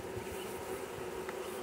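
Honey bees buzz steadily around an opened hive being worked, a close, continuous droning hum at moderate volume with no voices.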